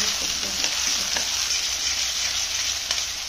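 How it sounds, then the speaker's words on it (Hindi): Cumin, onion and tomato tempering in hot oil in a pan for potato and capsicum curry, giving a steady, close sizzling hiss throughout with faint stirring clicks. "इसको तड़का लगाते हैं।"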